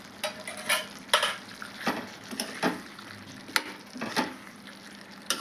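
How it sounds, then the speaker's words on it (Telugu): Onion pieces being added to a pan for a tomato curd chutney and cooking, heard as a soft sizzle with repeated scraping stirs and light metallic clinks at an irregular pace, close by and without speech. "నేను ఉల్లిగడ్డ ముక్కలు వేస్తున్నాను"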